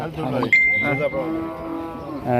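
A Jersey heifer moos loudly and close by at a cattle market, one long drawn-out low call with rising and falling tone, set against faint background chatter.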